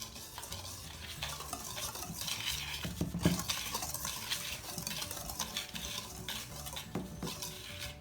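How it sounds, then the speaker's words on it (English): A whisk beats pound cake batter in a bowl close by, with quick rhythmic scraping and occasional clinks against the bowl, continuing steadily throughout. "just use a whisk because it'll help you get the lumps out."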